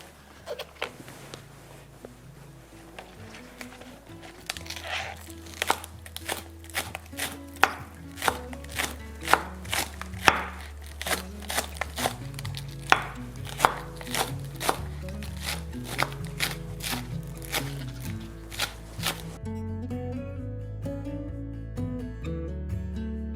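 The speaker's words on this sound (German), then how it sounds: "Den Koriander auch in feine, dünne Streifen schneiden." Coriander and spring onion sliced into fine thin strips on a cutting board, a long run of quick, crisp knife chops close up in steady rhythm, pausing briefly before ending, with no talking.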